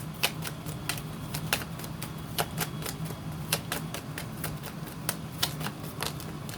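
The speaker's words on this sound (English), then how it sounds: "Give me 3 more cards, Jehovah" Lenormand tarot cards being shuffled and drawn: a soft, steady run of light card flicks and snaps at an even pace, fairly close but quiet, over low background hum.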